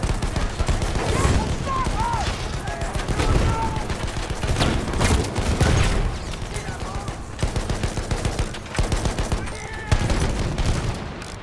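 Machine gun fire and rapid gunfire rattle continuously through a chaotic Battlefield 1 Conquest battle on the Amiens map, loud bursts layered with battlefield noise and shouted voices.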